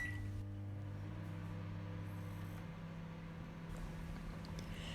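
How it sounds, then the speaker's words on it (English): A steady low mechanical hum drones continuously, like a microwave oven running, with no talking. "The microwave actually makes this fairly easy to control"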